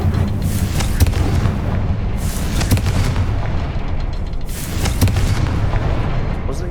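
Confringo spell blasts in Hogwarts Legacy land as a string of loud, close booming explosions with rumbling, crackling tails, two sharp bursts standing out about three seconds apart.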